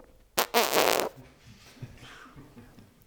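A voice imitates a fart with a short spluttering burst, then a brief pause and a longer buzzing raspberry lasting about half a second, followed by faint breathy rustles.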